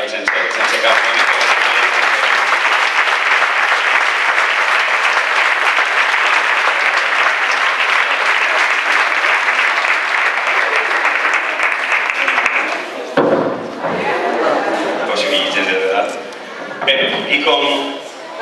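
Audience at a film awards ceremony gives loud, continuous applause for about thirteen seconds, then the clapping breaks off and a speaker talks while scattered claps linger.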